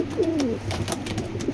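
A pair of Maxi breed pigeons gives a short soft coo, close and clear, with faint rustling around it.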